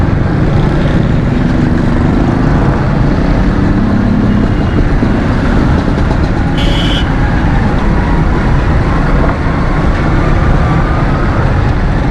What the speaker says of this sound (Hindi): अब ये खड्डे में जा रही है मोटरसाइकिल, खड्डे में चला रहा हूँ।